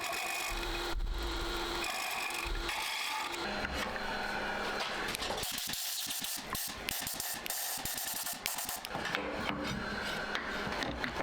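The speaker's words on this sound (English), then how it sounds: "I just need to do a little bit more hollowing with my Trent Bosch rig" A wooden canteen being hollowed on a lathe with a Trent Bosch rig, giving faint scraping and rasping cuts over a steady whir, with choppy intermittent bursts partway through.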